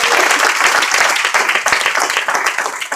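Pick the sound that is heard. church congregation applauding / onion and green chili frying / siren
church congregation applauding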